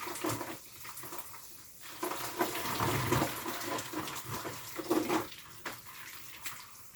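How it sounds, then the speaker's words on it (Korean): Hot water from an electric water heater runs in a shower booth, splashing and pattering unevenly as the spray hits the floor and walls, with steady nearby rushing that rises and falls as the body moves under it. "직접 샤워를 해보았는데 뜨신 물로 시원하게 샤워했습니다"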